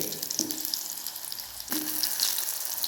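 Popat chili bhaji fritters frying in hot oil, a steady bright sizzle with soft turning clinks as the fritters are flipped, close and fairly loud with no talking.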